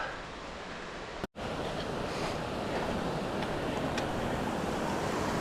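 Creek water rushes steadily and loudly beside a mountain trail, a broad continuous wash that drops out for a brief moment early on before continuing unchanged.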